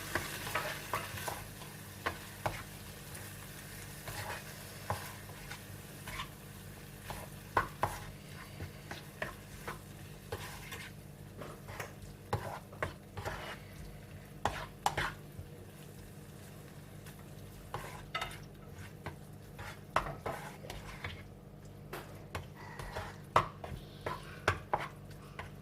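Chicken filling seasoned with white pepper powder and salt is stirred in a pan, with a low, faint background hum and frequent soft scrapes and taps of the spoon against the pan.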